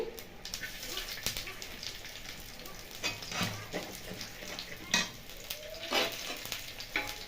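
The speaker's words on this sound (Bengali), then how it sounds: "বাটারে দিয়ে দিলাম অল্প জিরে। এটা তড়কা লাগাবো" Steady, crackly sizzling of cumin and chopped garlic frying in hot butter, with occasional louder pops and stirring scrapes close by.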